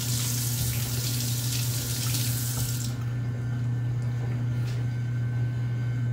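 Tap water running steadily over a laser-marked part while it is washed off, a loud continuous splash for about three seconds, then a softer flow over a steady low mechanical hum.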